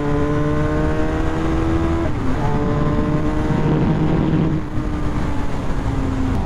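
A motorcycle engine revs up and holds a loud, steady drone with rising pitch, close by, continuous throughout with no talking.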